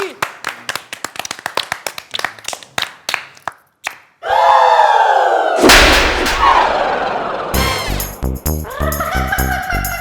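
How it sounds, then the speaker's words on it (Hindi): Clapping for a dance teacher: a run of sharp separate claps, then a loud sustained burst of noise with a comedic sound effect layered over it. "अरे डांस टीचर के लिए ताली हो जाए"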